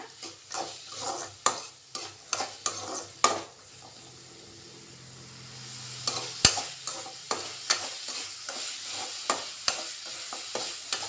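Potatoes sizzle in a hot pan over medium flame while a spoon scrapes and stirs, with sharp repeated clinks against the metal and a softer frying hiss in between.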